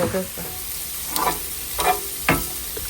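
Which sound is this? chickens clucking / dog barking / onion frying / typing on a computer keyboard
onion frying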